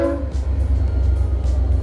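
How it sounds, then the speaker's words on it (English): A train rumbles past nearby with a steady low, heavy drone, with a horn-like tonal note in the opening moment, loud and continuous throughout with no talking. "the train is coming once again"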